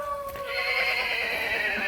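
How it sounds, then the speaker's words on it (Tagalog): A horse whinnies in one long, loud, bright call with a falling, quavering pitch, close by in open air, with no talk over it. "Uy, kabayo. Ay, kabayo."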